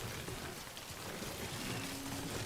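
Steady rain falls in Death Stranding, a dense, even hiss of drops on surfaces that holds at the same level throughout, with no voices.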